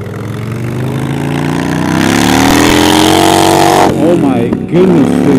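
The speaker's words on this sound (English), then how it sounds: "Goodness, this exhaust is so loud!" Loud motorcycle exhaust from a riding Harley, a sustained engine roar that rises in pitch as it revs, with a brief dip and rough burble near the end.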